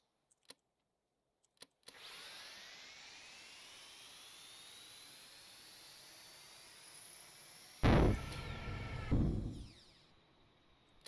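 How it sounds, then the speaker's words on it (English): Turbine engine in the Stormworks video game on a turboprop build, a steady whining drone with a rising tone, then a sharp loud surge of harsh noise near the end before settling back down. "I might just shock the turbine out."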